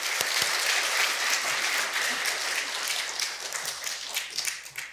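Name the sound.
congregation applause for the pastor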